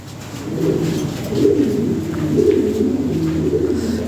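White Lahori pigeons cooing, a steady, close, low rolling coo repeating in soft waves with no other sounds over it.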